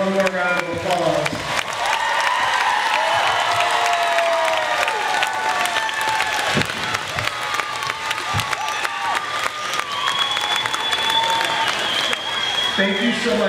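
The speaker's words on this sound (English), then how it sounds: "Let's give our kindergartners one more round of applause." An audience at a kindergarten graduation gives the kindergartners a long, steady round of applause with cheering and children's voices, loud and continuous from start to finish.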